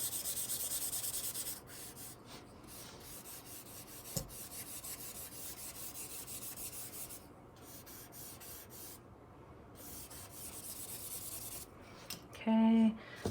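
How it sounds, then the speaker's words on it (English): Charcoal and an eraser rub back and forth on paper during a reductive charcoal drawing, soft close scratchy strokes in uneven passes, faint and continuous with small pauses. "going back and forth between the eraser as a drawing tool and the charcoal as a drawing tool"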